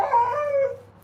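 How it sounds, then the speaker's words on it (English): A pit bull lets out a brief whining howl up close, a wavering tonal cry lasting under a second that fades into quiet with no voices. "If you hear a dog barking, that's my dog, Brock, a.k.a. Brock Lesnar."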